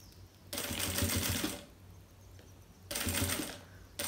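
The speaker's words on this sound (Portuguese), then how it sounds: "E aí, eu passo a costura até o final." A sewing machine runs a seam on a fabric notebook cover, two close bursts of fast even whirring about a second long with a quiet pause between, and a third starting at the end.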